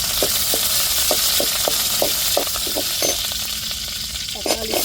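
Curry leaves crackle and sizzle as they hit hot frying oil, a dense close spatter with sharp pops scattered throughout.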